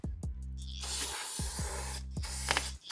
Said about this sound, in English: I'm gonna go ahead and clean it up just real quick with the brake cleaner